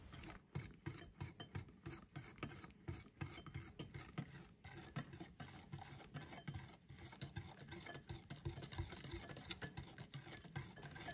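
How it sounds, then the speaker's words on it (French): A hand whisk stirs unsweetened cocoa into a batter mix in a bowl, a steady rhythmic scraping and rasping that repeats quickly and quietly, close up with no voices. "pour tamiser l'ensemble, mélangez à l'aide d'un fouet manuel"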